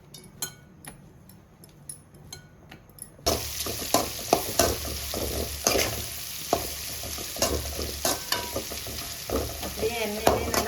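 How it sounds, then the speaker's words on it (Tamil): Bitter gourd fries in a pan, a quiet stretch of light taps, then a loud continuous sizzle sets in with repeated scraping strokes of a spoon stirring. "வறுத்துட்டே இருங்க"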